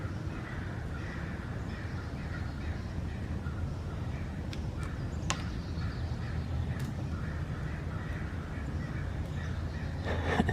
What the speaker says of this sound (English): I still hear the crows in the background.